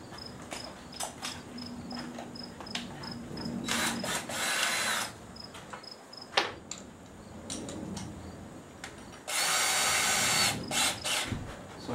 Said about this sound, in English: So I got a 3/4 inch paddle bit.